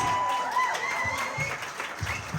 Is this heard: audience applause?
yes